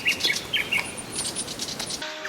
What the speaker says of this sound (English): Kookaburra getting annoyed by this little bird.